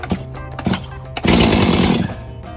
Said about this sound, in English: I think part of the problem is I'm just not mad enough to start this chainsaw